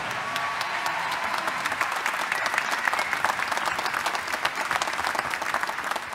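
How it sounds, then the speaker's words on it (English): Sustained applause from a concert audience at a Purdue Varsity Glee Club anniversary concert, dense steady clapping filling the hall for about six seconds. "give him a round of applause"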